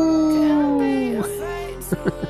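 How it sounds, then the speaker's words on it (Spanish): Victory howl from the Fortnite video game: a loud wolf-like howl sliding downward over about a second, followed by short yips, with no talking. "El aullido de la victoria."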